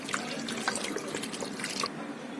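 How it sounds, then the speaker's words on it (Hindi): Hands are rinsed under a running tap during a clinical hand-hygiene routine, a quiet, continuous trickle with small splashes and drips that thins out toward the end. "उसके बाद आपको अपने हाथों को पानी से अच्छे से धोना है।"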